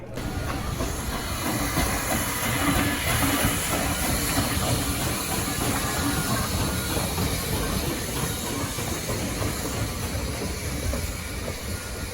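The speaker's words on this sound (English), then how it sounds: "So right now, number 93 is the only steam locomotive running out here." Nevada Northern Railway steam locomotive number 93 running, a steady loud hiss and rumble of the steam engine and rolling cars, continuous throughout with no talk.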